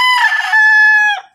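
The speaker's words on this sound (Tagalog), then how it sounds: "Lakas ng sigaw ng tilaok ng manok" A rooster crows once, loud and close, a strong harmonic call that holds steady and then breaks off abruptly.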